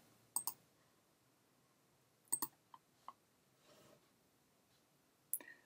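Mouse clicks in Maya while placing locators with the distance tool, a handful of sharp isolated clicks spaced out over quiet, including a quick double click.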